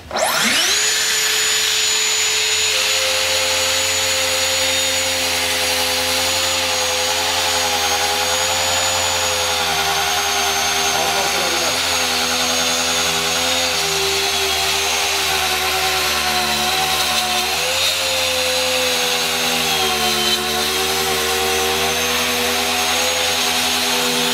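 A loud, steady circular saw whine runs continuously, its pitch dipping slightly as the fine-tooth blade, unsuited to the cut, bogs down under load, with no talking.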